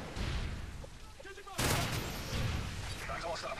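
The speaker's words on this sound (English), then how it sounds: "Just really shooting to try and get hit marker," Video game gunfire during a capture-the-flag match, bursts of rapid shots and a sharp loud volley midway, dense and continuous against a busy background, with a voice talking faintly underneath.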